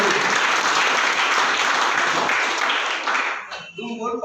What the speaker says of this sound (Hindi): जोरदार एक बार हाथ ताली